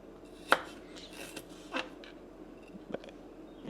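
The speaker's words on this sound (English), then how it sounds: "I'm just going to try to trim some of the skin off" A knife trims the skin from a piece of ginger on a kitchen board, giving a few scattered, fairly soft cutting scrapes and taps close by, with one sharper click near the start and quiet pauses between.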